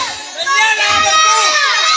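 Crowd at an outdoor political campaign rally in Sumba yelling and cheering together, a dense wash of many voices filling the whole stretch at a steady, loud level.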